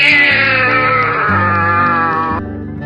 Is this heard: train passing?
no